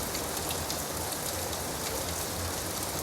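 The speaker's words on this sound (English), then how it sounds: "Let the rain remain for a while." Gentle rain falls steadily on surfaces, a soft, even hiss of drops that holds at a constant level throughout with no voices.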